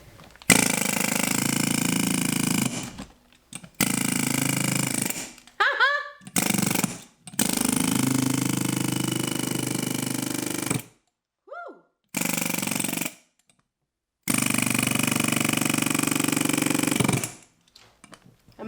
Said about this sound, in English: So here we have the air hammer